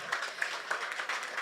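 Applause from the audience at the 2026 Ameeraga Kurumpada Vizha short film awards ceremony in Dubai, a steady, dense crowd clapping at moderate level with no voices over it.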